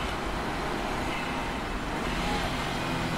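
A manual transmission car is driven in third gear along a winding road, its engine and road noise forming a steady, dense rumble heard close from inside the cabin.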